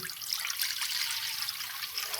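Water poured into a pressure cooker holding lentils, a continuous close splashing trickle with steady hiss-like texture and no voices.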